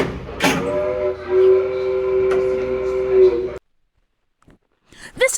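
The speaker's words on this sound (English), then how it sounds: "And now then, the brass whistle." A steam locomotive's brass whistle sounds a sustained, steady tone for a few seconds amid nearby hissing and voices, then cuts to silence before brief talk returns.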